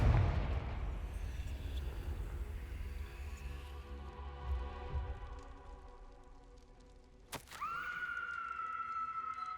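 A Confringo blasting spell goes off in the Hogwarts Legacy video game, a loud booming burst with rumbling debris that fades, followed by a sharp crack and a sustained ringing tone, with no talking over it.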